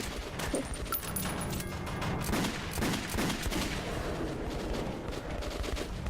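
Enemy gunfire in the Metro 2033 Redux game, a dense run of sharp bursts and rattling shots filling the whole stretch at steady loudness, with metallic clinks scattered through.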